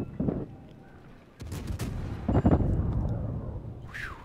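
Booming video-game grenade explosions and gunfire go off in a loud burst, a heavy blast followed by rumbling decay and a second strong hit before fading.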